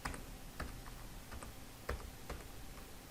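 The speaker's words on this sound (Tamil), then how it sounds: "இப்போ என்டர் கொடுத்து கீழே கர்சரை கொண்டு வந்துட்டு சிக்னேச்சர்னு டைப் பண்ணணும்." Keys clack on a computer keyboard while a resume is typed, a few sparse, separate taps at an irregular rhythm, close and fairly quiet with no voices.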